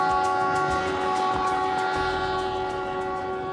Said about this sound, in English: Our adventure begins almost conventionally on a train out of Cuzco bound for Quillabamba